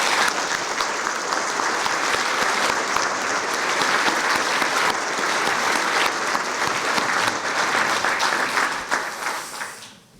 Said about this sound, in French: vraiment ils méritent vos applaudissements très chers